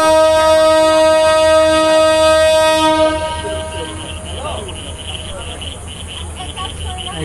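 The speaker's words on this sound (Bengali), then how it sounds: "একদম সঠিক সময়ে আমাদের ট্রেন সিলেট থেকে ছেড়ে দিল ঢাকার উদ্দেশ্যে।" The Upaban Express departs Sylhet station with a loud, sustained horn blast lasting about three seconds, then the lower rumble of the moving train and a brief voice.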